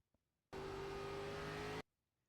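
An ARCA race car engine in the iRacing sim drones loud and steady at partial throttle for about a second and a half, starting and stopping abruptly, with no talk.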